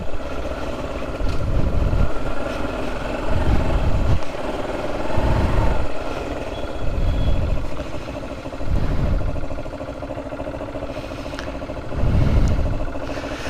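A motorcycle engine runs steadily through cool hill-country riding near Maidady View Point, a low continuous drone with periodic surges and pulses every couple of seconds, close and fairly loud, with no talk over it.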